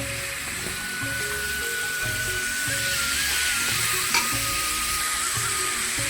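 Turmeric and cumin spices sizzle steadily in hot oil in a pan, with a continuous close frying hiss and light stirring scrapes running throughout.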